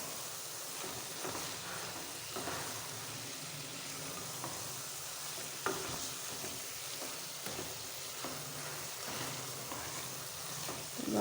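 Carrots frying in ghee over low heat, a steady hissing sizzle throughout, fairly faint, with occasional soft stirring scrapes.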